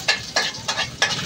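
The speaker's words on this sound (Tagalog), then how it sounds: "una natin siyang ilalagay doon sa mainit na mantika" Chopped onion sizzles in hot oil in a pan while being stirred for pinakbet, four quick scraping stir strokes over a steady close frying hiss.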